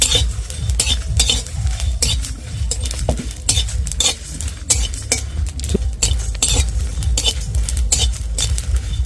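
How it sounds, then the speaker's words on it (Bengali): Spice masala with fennel for chalta pickle is stirred in a pan. A metal spoon scrapes and clinks against it again and again in quick, loud strokes, over a faint sizzle, with no speech. "একসাথে ভালোভাবে নেড়ে নেব মশলাটা"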